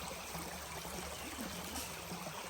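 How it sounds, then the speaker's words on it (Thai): Water trickles and babbles in a small forest stream, a constant soft rushing with light gurgles close by. "บรรยากาศดีมาก ๆเสียงน้ำไหลเย็นมาก"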